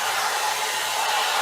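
A Lange Le Volume hot air styling brush runs, a steady, close airy blowing whoosh like a hair dryer, constant and unbroken with no talk.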